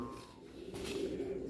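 Racing pigeons cooing nearby, a soft low throaty coo over a quiet loft background, brief and close.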